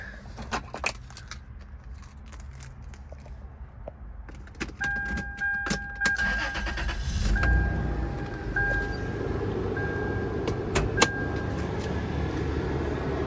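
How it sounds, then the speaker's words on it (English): Clicks and a key jangle, then a starter whines and a 2002 Toyota 4Runner Limited 4x4 engine, at 256k miles, catches at about seven seconds and settles into a steady, low idle. "let's give the engine a turn and listen to it run"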